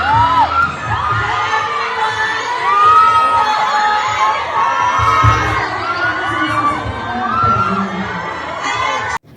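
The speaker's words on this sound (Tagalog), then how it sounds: "hiyawan ang mga audience ng Asap Natin To nang lumabas sina Fiang at JM" Audience at a live variety-show stage appearance cheers and shouts continuously, a dense, loud crowd roar with high-pitched whoops and screams rising and falling throughout, cutting off abruptly at the very end.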